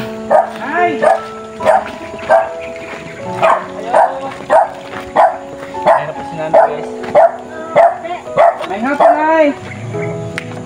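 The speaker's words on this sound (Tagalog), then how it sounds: "Nagtawag na sa atin yung aso." A dog barks repeatedly at a house, steady rhythmic woofs roughly every half second to second, loud and close, going on for the whole stretch with some whimpering yips mixed in and people talking in the background.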